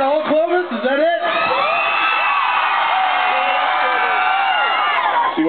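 A concert crowd at the Clovis Rodeo cheers for a singer, a loud, dense wall of whoops and shouts that holds steady for about five seconds.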